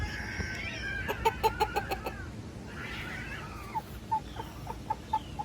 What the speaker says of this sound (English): Neighbor cats fighting, or the feral cats fighting.